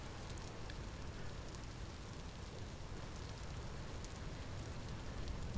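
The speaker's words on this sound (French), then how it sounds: "c'est que la pluie vient vraiment des nuages" Rain falls in the Vintage Story video game as a soft, steady patter, quiet and even throughout, with faint scattered drop ticks and no voices.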